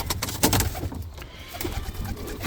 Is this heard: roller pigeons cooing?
yes